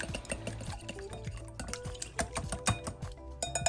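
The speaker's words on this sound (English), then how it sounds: "grab our eggs, add it to a bowl, get in there with the whisk" Eggs are whisked in a bowl, a quick irregular run of light clicking and tapping strokes, fairly faint and close, with no voices.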